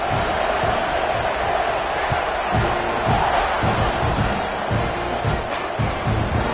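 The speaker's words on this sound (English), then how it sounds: "this crowd is feeling themselves after that last drive" Big college football stadium crowd roaring during a kickoff after a touchdown drive, a dense continuous wall of cheering and shouts with scattered thumps, loud and steady throughout.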